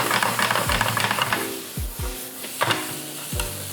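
Mushroom and onion fry in a little oil in a pan for japchae: a hissing sizzle, loud at first, then quieter, punctuated by several distinct spatula scrapes and knocks.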